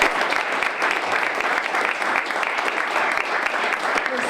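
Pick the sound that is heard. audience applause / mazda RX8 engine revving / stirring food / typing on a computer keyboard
audience applause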